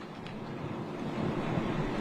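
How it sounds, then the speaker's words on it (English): A wildfire burns fiercely in the hills just west of Los Angeles, fanned by strong wind gusts, giving a continuous low, rushing roar that swells slightly toward the end, with no voices. "Can you hear the intensity of that fire? It is burning fiercely tonight, fanned by powerful wind gusts"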